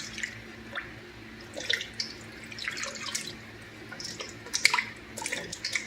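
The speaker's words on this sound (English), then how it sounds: "Now we're going to add our veggies. And I'm not going to put all this water in there," Water poured from a tap or container over vegetables and a chuck roast in a cooking pot, giving soft splashing and dripping that rise and fall in bursts, close and fairly quiet with no talking.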